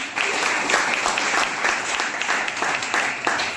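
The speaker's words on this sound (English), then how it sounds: "Please clap for it" A classroom audience of students claps steadily, a dense, even patter of many hands that stays at a constant moderate loudness throughout, with no pauses and no voices.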